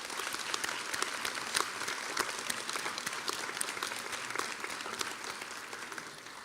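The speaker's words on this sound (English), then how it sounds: "So maybe you'd give them a round of applause" Round of applause from the audience at a college graduation ceremony, steady dense clapping from a large crowd sustained throughout and tapering slightly at the end.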